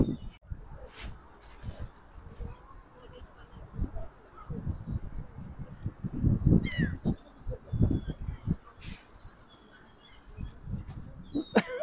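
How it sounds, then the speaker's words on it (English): Seabirds call in sharp, high cries on the Southsea seafront by the pier, several scattered calls over outdoor wind and handling noise while people talk nearby. "It's going for me then, that bird."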